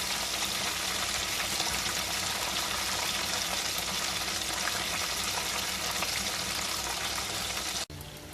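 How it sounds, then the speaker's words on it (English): Oil sizzles and crackles steadily as bammies fry in a pan, close and continuous, cutting off abruptly near the end. "Now it's time for me to start frying my bammies"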